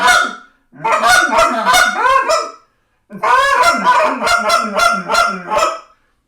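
A man works a goose call to imitate a flock of about eight geese sitting on the ground, loud close honks in two rapid bursts separated by a brief pause.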